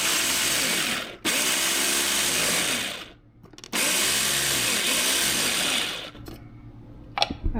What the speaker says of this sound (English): pop them right into our little mini food chopper here. And it's going to be a little bit loud for the video, I'm sure, but we're going to just mince this up